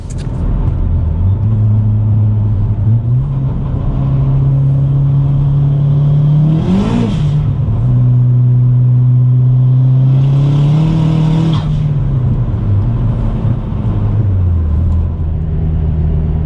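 A Ford Fiesta ST fitted with a Garrett G25-550 turbo on a power pull, its engine climbing through the revs in two loud, close surges, each ending in a sharp whooshing release before dropping back to a steady drone.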